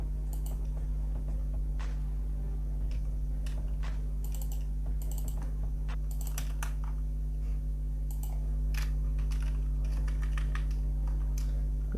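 Steady keyboard typing in bursts of quick clicks, heard over a loud constant low hum of computer or room noise, with no voices.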